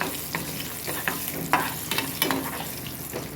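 Cashews frying in ghee in a pan for yellow pumpkin halwa, stirred with a steady low sizzle and irregular scraping strokes, close and moderately loud with no talking.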